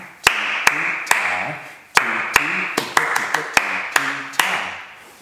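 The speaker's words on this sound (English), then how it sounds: "You may create your own cup beat sequence to go with pattern 1, like this." Plastic cups tapped and clapped in a Year 4 music-class cup beat pattern: a steady rhythm of sharp, close, loud hits and claps in uneven groups, with no one talking.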